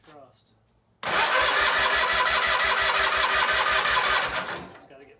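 A John Deere 317 lawn tractor engine, freshly fitted with a rebuilt carburetor, cranks briefly, then catches and runs loud and steady with a fast, even firing rhythm before easing off near the end.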